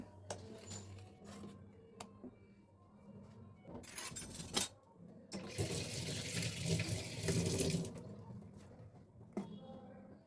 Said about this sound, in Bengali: একটু জল মেশাবো সামান্য